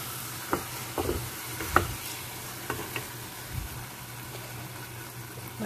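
A sweet mixture being stirred with milk in a pan, soft scraping strokes of a spoon recurring at irregular intervals over a faint steady simmer, quiet and close, with no voices.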